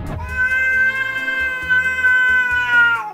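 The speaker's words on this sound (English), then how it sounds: "cats have an extraordinary way of communicating with humans, meowing." A single long, drawn-out cat meow, loud and close, holding steady for about three seconds.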